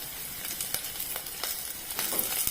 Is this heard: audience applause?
no